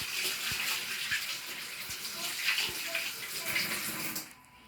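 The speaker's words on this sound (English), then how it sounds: "but first I need to wash my hands" Tap water runs steadily into a sink as hands are washed beneath it, a continuous close splashing hiss that cuts off near the end.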